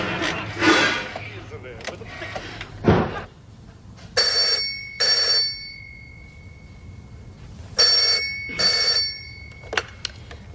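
A telephone rings indoors in a domestic setting, two short bursts of ringing repeated after a pause, with some background movement and clatter.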